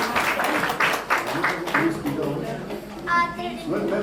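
A school audience at a Grandparents Day event claps loudly and continuously to welcome a young girl to the stage, the dense applause close and steady with some voices mixed in.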